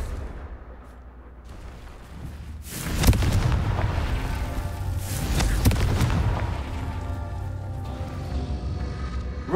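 Confringo blast spells explode in the Hogwarts Legacy video game, with two loud booming bursts a couple of seconds apart that roll out into a sustained rumble.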